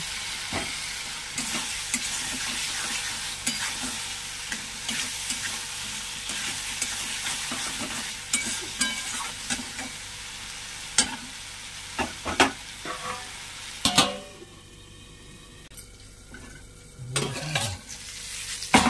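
Potatoes go into frying spice paste in a pan for a koi fish and drumstick curry, with a steady sizzle and repeated scraping stirs, then a sharp burst of frying near the end.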